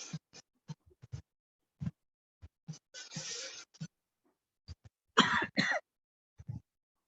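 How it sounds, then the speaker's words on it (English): Scattered short dry coughs and throat clearing, with a couple of louder harsher bursts, separated by silence. "Coughing? Slightly, just some throat irritation."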